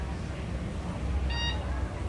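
A short electronic beep sounds at the Kilimanjaro Safari boarding platform, a brief tonal chirp over loud crowd and ride ambience with people talking nearby.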